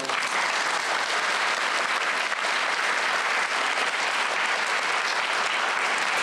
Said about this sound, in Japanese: 拍手を